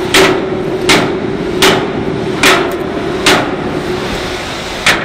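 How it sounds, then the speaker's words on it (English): A metal part in a welding shop is struck shut with repeated hammer blows, six loud, sharp, close impacts spaced roughly a second apart over a steady background hum. "I'm just gonna fucking slam this shut"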